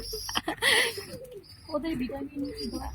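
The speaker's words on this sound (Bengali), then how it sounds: "এই যে দেখেন আমার কবুতরগুলো এখানে রেস্ট নিতেছে" Pigeons resting on a rooftop garden coo softly in low, rolling phrases close by, with a person talking over them and a few brief chirps.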